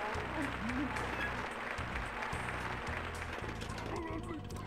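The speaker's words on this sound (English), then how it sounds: "That sweet applause from one person." Applause from the Chibi-Robo video game, a steady clapping sound effect under continuous game music with talking over it.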